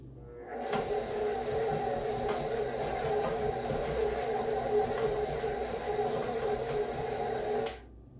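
Stand mixer beating chocolate chip cookie dough with a beater: a steady whirring motor hum with a faint rhythmic churn, lasting about seven seconds before stopping abruptly, close and moderately loud, without speech.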